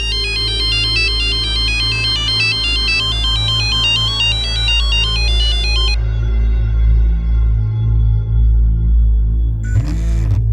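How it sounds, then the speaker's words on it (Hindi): A phone ringtone plays loudly as a repeating electronic melody for about six seconds, then gives way to a steady low hum, with a brief burst of sound near the end. "मेरा फोन क्यों नहीं उठा रही?"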